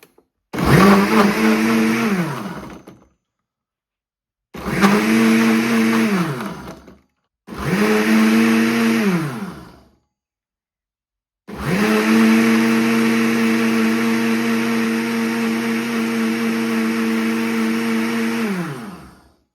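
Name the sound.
blender crushing ice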